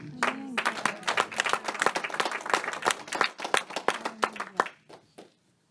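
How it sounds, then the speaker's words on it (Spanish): A church congregation bursts into applause, a dense run of hand claps close by that swells and then thins out toward the end, with a voice rising briefly over it. "Denle aplausos a este día"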